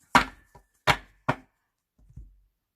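Tarot deck being cut and tapped down on a table: three sharp, close card slaps in quick succession, then a softer double pat, with no voices.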